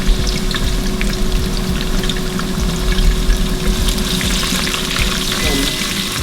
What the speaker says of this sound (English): the oil in the pot is going, so I'm just gonna scoop in like an handful of onions